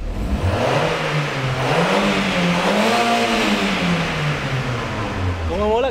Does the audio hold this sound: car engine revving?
yes